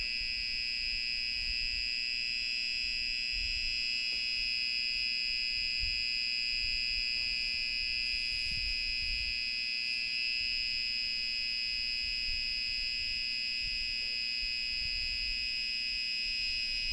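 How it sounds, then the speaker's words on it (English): A steady electronic alarm tone from a scooter battery test rig running on four batteries sounds continuously and loud throughout, a high sustained beep with low background rumble and no talk. "Just getting an alarm."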